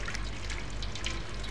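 A cat in the video game Stray laps up water, giving soft, quick, evenly spaced wet licks that stay quiet and close, with no voices.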